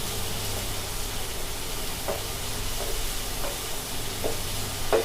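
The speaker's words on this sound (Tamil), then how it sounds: "தக்காளியோட பச்சை வடை போகட்டும். தக்காளிலாம் நல்லா வதங்கிருச்சுங்க." Tomatoes and green chillies for a fish curry sauté in a pan with a steady close sizzle, while a few soft scrapes of stirring come through; no one speaks.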